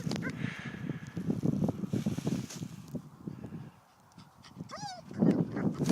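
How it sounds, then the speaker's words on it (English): A dog barks and whines outdoors in uneven bursts, moderately faint, with wind blowing in the background. "That noise is my stupid dog."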